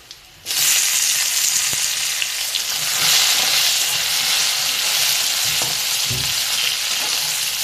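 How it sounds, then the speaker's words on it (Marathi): Tomatoes drop into a pan of frying onion and coconut for a spicy Maharashtrian eggplant curry, bursting into a loud, steady close sizzle that runs on with a few faint stirring knocks; no talking. "आता ह्याच्यात आपण टोमॅटो घालूया."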